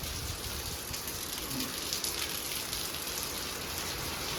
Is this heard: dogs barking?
no